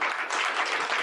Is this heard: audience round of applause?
yes